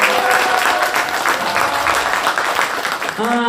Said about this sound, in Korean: 오늘 수고하신 두 분께 다시 한번 큰 박수 부탁드리겠습니다